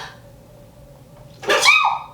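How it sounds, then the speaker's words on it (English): A single sharp sneeze bursts out close by after a quiet stretch with a faint steady hum. "Hold on, there's a sneeze."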